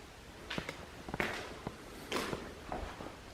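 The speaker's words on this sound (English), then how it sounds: "I swear that sounded like human footsteps walking" Faint, irregular footsteps thud overhead on the roof of an abandoned nursing home, several soft distant steps spread unevenly, heard alone without talk.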